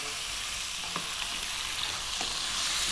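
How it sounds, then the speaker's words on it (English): Steady sizzling as pumpkin fries with onions in a pan over high heat, with a few faint scrapes of stirring, continuous and fairly quiet with no voices. "we're going to go for about 4 to 5 minutes frying our pumpkin around with those lovely onions"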